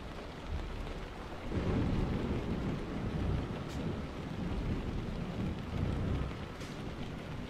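Steady rainfall with rumbling thunder during a drive in Euro Truck Simulator 2, hauling an oversize load through Russia; a dense, continuous downpour hiss swells louder after the first second and holds with low rolling rumbles, with no voices.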